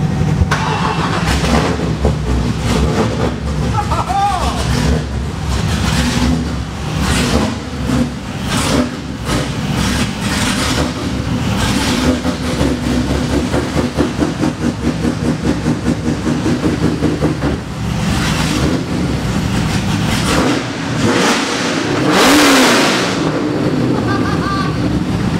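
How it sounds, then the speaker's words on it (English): A Nissan 240SX drift car's engine starts and revs close by, loud and rough with repeated throttle blips and a pulsing idle between them. "I can go and start my car."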